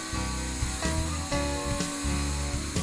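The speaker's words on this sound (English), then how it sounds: "During operation, you'll notice that the CNC runs through detail areas quickly." A Creative Evolution CNC router runs in automatic mode, its stepper motors whining in shifting tones that jump between pitches as it accelerates and decelerates through detail cuts, loud and close.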